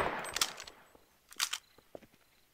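Sniper gunfire in the video game Half-Life, a few sharp cracking shots in quick bursts with brief gaps between them, fairly close and alone without talk.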